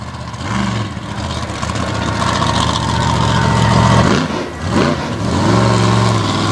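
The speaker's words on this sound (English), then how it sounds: "Ripping up the track as he donuts just up the top of the berm." Racing truck engine revving hard while doing donuts on a dirt track at a monster truck event in Brownstown, Indiana, a loud sustained roar that rises and dips with throttle, heard close with crowd noise beneath.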